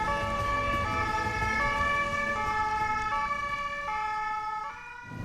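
A German police ambulance's siren wails loudly and nearby in a steady two-tone pattern, alternating pitch about every second over road and engine rumble.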